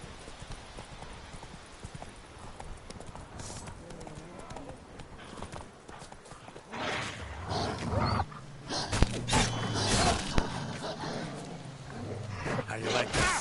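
Hoofbeats of a horse galloping in The Witcher 3 video game: a fast, steady clip-clop that grows louder and busier midway, mixed with other game sounds and some voices.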